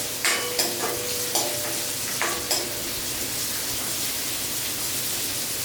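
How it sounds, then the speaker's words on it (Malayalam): Sliced onions sauté in a pan with chili, giving a steady frying hiss broken early on by several quick stirring scrapes, then settling into an even sizzle. "നന്നായിട്ടൊന്ന് വഴറ്റിയെടുക്കാം"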